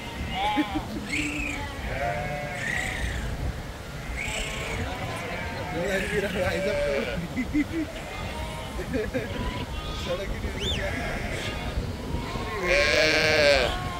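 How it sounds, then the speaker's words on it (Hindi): A huge flock of about 3000 sheep crowds a mountain road, filling the air with dense, overlapping bleats near and far. Someone talks over the din, and it swells louder at the end. "3000 भेड़ें एक साथ देखकर मैं तो बहुत हैरान हो गया"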